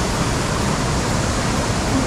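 A two-tiered waterfall on Bangtaesan mountain gives a steady, dense roar of rushing water that fills the whole moment without any variation or voices.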